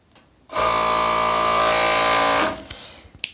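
A sewing machine runs one continuous burst of stitching along a pajama seam, a close, steady mechanical whir lasting about two seconds that slightly quickens midway before stopping, with faint clicks after.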